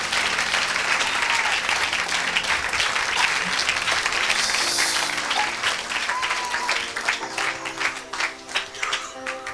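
A church congregation at a deliverance service breaks into sustained, loud applause, dense clapping that fills the whole stretch and eases slightly toward the end, with faint voices and music tones underneath.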